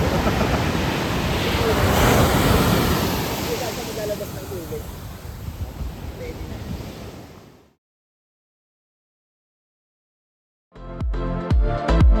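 Ocean surf rolls in a steady, loud wash mixed with wind rumble for several seconds, then drops to silence before other sounds start.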